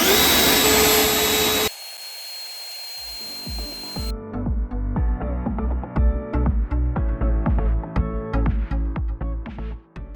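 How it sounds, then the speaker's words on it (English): Kobalt 80V brushless leaf blower running on full turbo, a loud steady whooshing roar of rushing air with a motor whine, continuous and close, after a brief burst of broadband noise at the start. "how long you get gas-like power with the KOBALT brushless blower"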